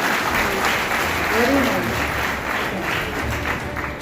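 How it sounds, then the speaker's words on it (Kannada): An audience at a students' motivation program in Raichur claps steadily, a dense, sustained burst of applause filling the hall from start to finish. "ಒಬ್ಬರಿಗಾಗಿ ಚಪ್ಪಾಳೆ ಹೊಡೋದು"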